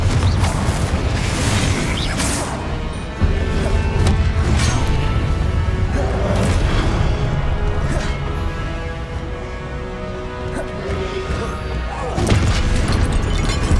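Confringo fire spell blasts in Hogwarts Legacy, loud and continuous, with repeated booming impacts and crashing over steady game combat noise throughout.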